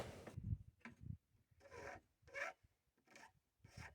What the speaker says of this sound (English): What I'm using here is a low-profile triangle file that was actually built to sharpen saws